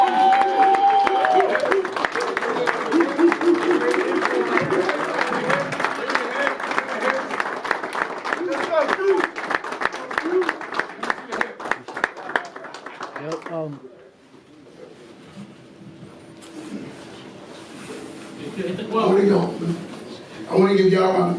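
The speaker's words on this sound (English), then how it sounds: "I want to give y'all a round of applause." An audience at a men's mental health awareness event breaks into sustained applause and cheering, a dense wash of many hands clapping at length before fading, with voices and an amplified speaker coming in afterwards.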